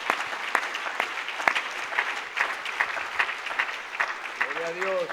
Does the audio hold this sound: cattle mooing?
no